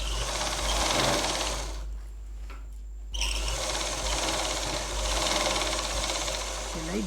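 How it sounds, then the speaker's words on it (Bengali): A sewing machine stitches a puff-sleeve blouse, running in steady mechanical bursts close by, pausing briefly midway before the whirring stitching resumes. "সেলাই দিয়ে দিলাম"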